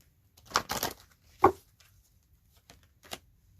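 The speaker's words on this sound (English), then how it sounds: "One shuffle." Angel oracle cards are shuffled close by, a few quick riffling bursts and soft snaps separated by quiet pauses.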